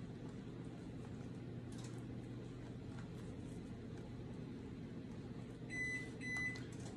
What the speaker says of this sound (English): Here goes the oven, it's ready.